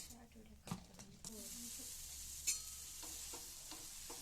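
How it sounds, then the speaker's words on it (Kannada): A masala dosa cooks on a hot pan with a faint, steady hiss and sizzle, broken by a few spoon scrapes and taps, while a voice speaks quietly at the start. "ಇವಾಗ ದೋಸೆನ ಮಾಡ್ಕೊಳ್ತಾ ಇದ್ದೀನಿ."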